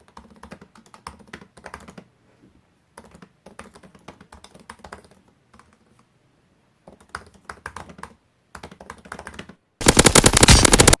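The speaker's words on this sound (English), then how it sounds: "let's find out by me typing a random document" Fingers type on a 2018 MacBook Pro 15-inch butterfly keyboard in bursts of quick, crisp clicking separated by pauses, close and distinct, ending with a much louder stretch of rapid clatter.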